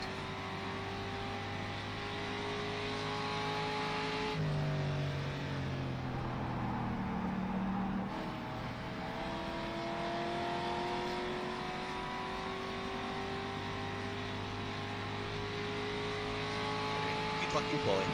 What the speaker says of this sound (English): Cannot really understand you over the engine